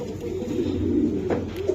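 Racer pigeons coo in a low, continuous murmur, a close flock of club racing birds humming steadily for a couple of seconds with a brief rise near the end.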